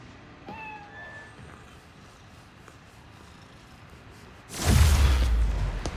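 A cat meows a couple of times, brief and fairly faint, before a loud whooshing rush of sound swells up and lingers, in the video game Spider-Man: Miles Morales.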